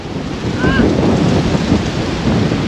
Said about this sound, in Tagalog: Mahangin na, malaalon pa.